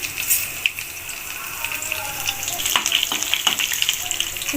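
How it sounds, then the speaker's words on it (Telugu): Garlic cloves, mustard seeds and fenugreek seeds fry in hot oil as tempering for pumpkin pulusu, giving a steady close sizzle with small pops and crackles that grow slightly busier toward the end. "ఇప్పుడు వెల్లుల్లిపాయ రెబ్బ వేస్తున్నానండి"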